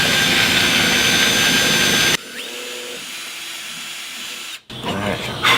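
A power drill whirs loudly and steadily for about two seconds, then cuts off, leaving quiet clicks before the drill roars back near the end.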